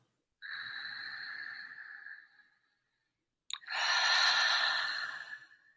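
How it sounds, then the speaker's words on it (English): A slow, deep breath in followed by a long exhale, close and soft, two breathy whooshes separated by a short pause, with the out-breath slightly fuller and louder. "Taking a deep breath."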